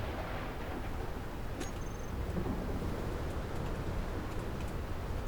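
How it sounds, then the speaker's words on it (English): A storm in the video game Space Engineers, with a constant broad rumble of wind and thunder and a faint tick near the start that rolls on steadily without talk. "And a storm would happen now"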